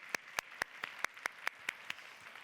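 Church congregation at a college worship service claps in unison, a slow regular series of about ten distinct, crisp hand claps, evenly spaced and fairly faint, ending with a softer trailing clap.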